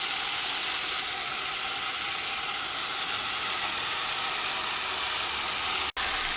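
Cabbage goes into a hot pan of tomato masala for a cabbage egg roast curry, and a loud, steady frying sizzle and hiss carries on throughout with only a momentary break near the end and no talk.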